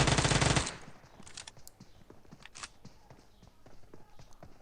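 Gunfire in the mobile battle royale PUBG Mobile: a loud, dense burst of automatic shots up front, then scattered distant shots and clicks over quieter game ambience.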